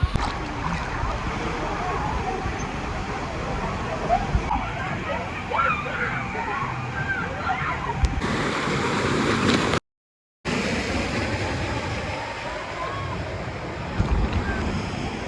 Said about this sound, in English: Time for me to enter the lazy river.